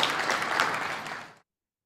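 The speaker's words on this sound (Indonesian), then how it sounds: "ya, tepuk tangan." Audience applause at an Indonesian property executive dialogue event, a dense burst of clapping that holds steady for over a second, then cuts off abruptly into silence.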